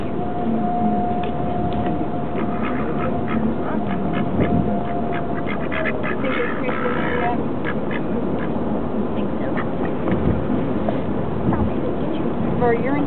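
Ducks quack repeatedly inside a moving car on the way to the vet, over a constant road and engine rumble with people talking intermittently.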